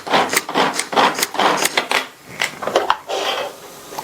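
A kitchen chopper whirs and rattles in short, rapid bursts as it cuts cauliflower pieces into small bits for a dosa topping, close and fairly loud.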